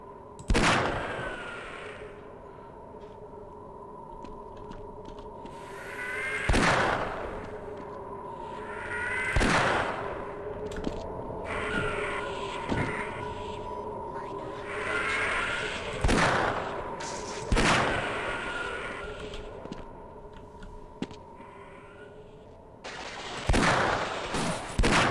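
Enemy soldiers in the video game Half-Life fire sharp, loud gunshots in about eight separate bursts spread irregularly over a low, steady background hum.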